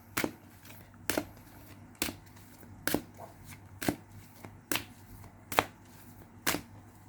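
Advice cards are shuffled in eight crisp riffling bursts, about one a second, each brief and close, with quiet room tone between them.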